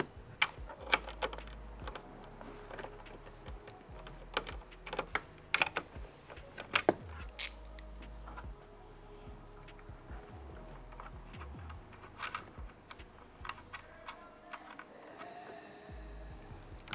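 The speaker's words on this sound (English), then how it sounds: "now I'm just going to take an 8mm socket and a ratchet and loosen up these nuts" Rapid ratchet clicks from an 8mm socket loosening nuts on a Tesla Model 3 or Y taillight, sounding as quick bursts of light ticking with scattered sharper clacks, close but fairly quiet.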